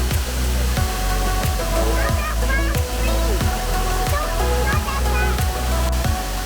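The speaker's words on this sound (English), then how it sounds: "It's a beautiful waterfall." A waterfall roars in a steady, loud wash of rushing water at close range, with someone talking over it and faint bird chirps in the background.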